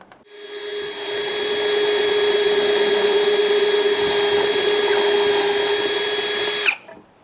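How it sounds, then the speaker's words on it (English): A power drill spins up, holds a loud, steady high whine for about six seconds while boring a hole, then stops abruptly, close by with no talk. "A lot of it's just been hole drilling"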